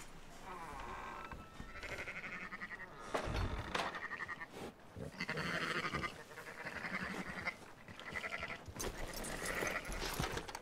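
Sheep bleat repeatedly in Red Dead Redemption 2, with several overlapping wavering calls that sound fairly close and carry on over a low game backdrop.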